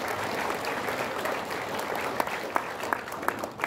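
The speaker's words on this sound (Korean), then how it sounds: "멋진 축시를 해주신 우리 장순희 박사님께 뜨거운 박수를 보내시기 바랍니다." Warm audience applause in a seminar hall after a congratulatory poem at a Korean history lecture, continuous close clapping from a crowd with a few sharper individual claps standing out.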